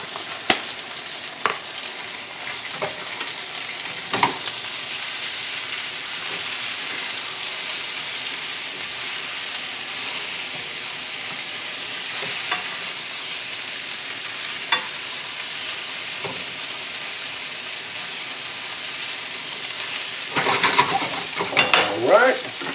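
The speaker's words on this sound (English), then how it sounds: "this is starting to boil a little bit, lightly boil. This is the orange sauce mixture" An orange sauce mixture for orange chicken bubbles at a light boil in a pan, a steady close hiss and sizzle with occasional faint pops and clinks, louder stirring noises near the end.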